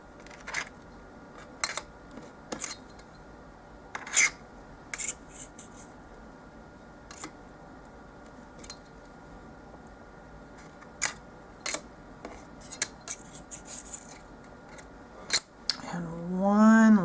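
A rolled-out piece of polymer clay cane is trimmed, with sparse, sharp cutting clicks and light taps close by against a quiet background, ending with a brief rising handling noise.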